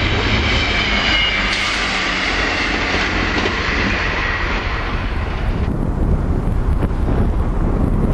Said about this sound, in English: There's the other East Midlands train going in the opposite direction